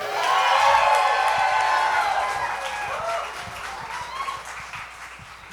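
An evening campaign kickoff rally crowd cheers loudly, with whoops, shouts and clapping, sustained at first and then slowly easing off.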